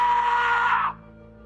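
A man's loud, strained scream holds for nearly a second, close and alone, then cuts off abruptly.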